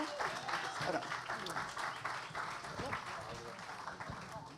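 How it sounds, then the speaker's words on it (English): Audience applause greets panelists called onstage at an event on inclusive storytelling, a sustained crowd clapping of moderate level. Voices and chatter mix in under the clapping. "Give them a round of applause."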